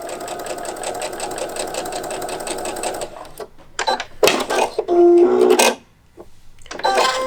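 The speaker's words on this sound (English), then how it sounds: "So I'm going to sew all the way along." A sewing machine stitching a Courthouse Steps quilt block runs steadily for about three seconds in a fast mechanical rattle, then stops; a few short bursts of stitching and handling noises follow.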